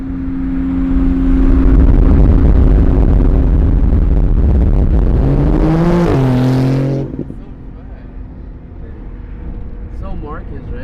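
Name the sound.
supercar driving and revving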